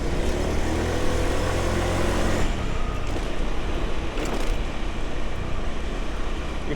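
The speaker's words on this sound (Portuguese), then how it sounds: "Motoquinha que alugamos no hostel." A rented motor scooter hums along a road in Vietnam, a steady low engine drone with road and wind noise, the tone shifting midway as the ride changes pace.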